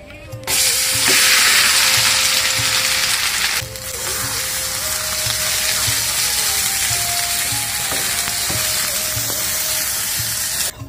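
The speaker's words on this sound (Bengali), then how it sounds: "এখন আমি ওই মশলা ভাজা তেলের মধ্যে পেঁপের বরফিটাকে দিয়ে দিচ্ছি" Papaya barfi dropped into hot oil spiced with fried cardamom sizzles loudly and steadily, a dense close hiss that starts abruptly, eases slightly partway and continues without talk.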